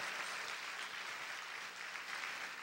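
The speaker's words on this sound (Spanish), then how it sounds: "Aplaude fuerte al Señor en esta hora." A church congregation claps during a worship service, a faint, steady wash of many hands clapping together with no clear voices on top.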